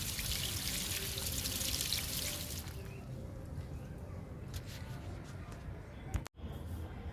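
Liquid fertilizer is poured from above onto a potted flowering plant, making a close, splashy pour for the first few seconds. The pour then gives way to quieter trickles and faint background sounds, with a brief dropout near the end.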